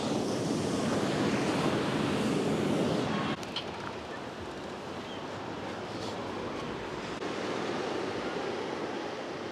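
Ocean waves washing onto Windansea Beach in San Diego, a continuous broad roar of surf with wind buffeting the microphone, louder at first then settling to a steady wash; no talk.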